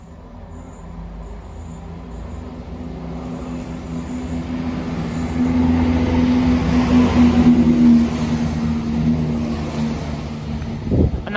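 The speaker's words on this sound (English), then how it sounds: "Passing through now is a ScotRail service from Aberdeen to Edinburgh Waverley." A ScotRail passenger train running from Aberdeen to Edinburgh Waverley passes through North Queensferry station, a steady rolling rumble with a low tonal drone that swells to a peak midway, then eases off, ending in a sharp knock.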